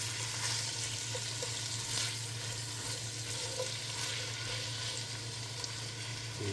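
Kimchi fries in a pot for kimchi jjigae, giving a continuous dense sizzle with a low steady hum underneath, close and unbroken throughout.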